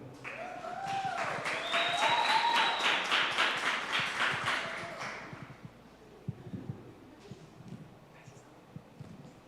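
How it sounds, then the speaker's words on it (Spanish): A church congregation claps to welcome a preacher, a brisk burst of applause under a sung or sustained tone that swells, then thins to a few scattered claps and quiet room noise. "Y sin más preámbulo, recibamos con un fuerte aplauso al predicador de esta tarde, a Jonathan Pataquiva."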